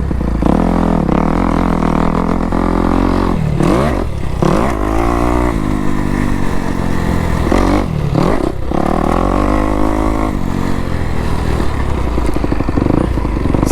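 A motocross dirt bike rounds a turn on an outdoor MX track, its engine loud and close, revving up and down through the corner with throttle blips and clattering, continuous for the whole stretch.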